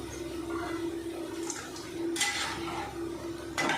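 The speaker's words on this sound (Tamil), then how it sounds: "இப்போ தட்டில் போடும்போது இந்த மாதிரி சத்தம் கேட்கணும்" Crispy bakery-style onion pakoda is dropped onto a plate, giving light crunchy clatters and two sharper rattling impacts over a soft background hum.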